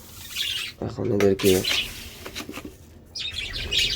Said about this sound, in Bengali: দেখো সব পাখিরা চলে আসবে খাওয়ার জন্য